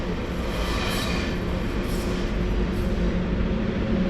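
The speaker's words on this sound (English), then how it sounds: "And here comes my train, Intercity 61104 Nalkowska." PKP Intercity train 61104 Nalkowska arrives on the Opole to Warsaw route in southern Poland, a loud continuous rumble of rolling wheels and carriages, close by, with faint high brake squeals pulsing in.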